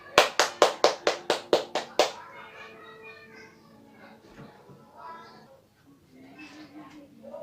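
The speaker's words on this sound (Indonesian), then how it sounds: "Beri tepukan yang meriah untuk kelompok 3." A school class gives a group a short burst of rhythmic clapping, about nine sharp, evenly spaced claps, followed by quiet talking in the room.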